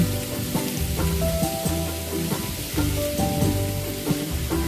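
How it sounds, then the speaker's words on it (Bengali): Pieces of raw green mango fry in a pan with salt and turmeric, giving a continuous close sizzle broken by the clinks and scrapes of stirring. "আমগুলো একটু ভাজা করে নিচ্ছি"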